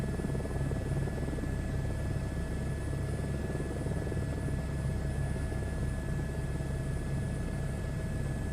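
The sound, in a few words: helicopter flying in video game Microsoft Flight Simulator 2024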